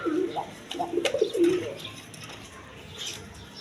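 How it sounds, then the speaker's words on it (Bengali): High-flying Giribaz pigeons coo in a wholesale loft of caged birds, with a few soft, close, low throaty calls early on followed by quieter rustling and faint chirps. "একদম কোয়ালিটি সম্পন্ন কবুতর, হাই ফ্লাইং গিরিবাস কবুতর"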